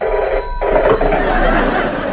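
A telephone rings in an old radio comedy scene, a brief steady bell ring over a busy, noisy room background, loud and close.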